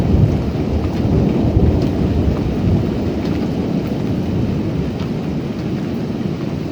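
Thunderstorm with steady heavy rain and a low rolling rumble of thunder underneath, continuous and loud, no voices.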